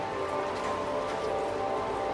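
Steady rain falling and pattering on surfaces, a continuous even hiss with no distinct drops or thunder, heard alone without voices.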